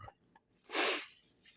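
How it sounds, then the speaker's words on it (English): A single sharp, breathy sniff or snort bursts out near the mic, followed by quieter nasal breathing. "the sniffling starts when I get nervous"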